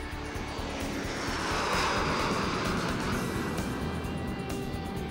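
A jet aircraft rolls down a runway at takeoff, its engines giving a loud, steady roar that builds slightly and holds, heard from close by without talk.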